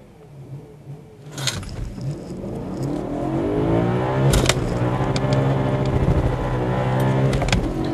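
A sports car launches hard in second gear with traction control off, its engine rising into a sustained revving roar as the tires spin, close and loud with no talk.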